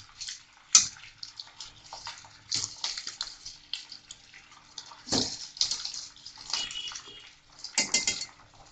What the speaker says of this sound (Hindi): इसमें हम पानी डालेंगे।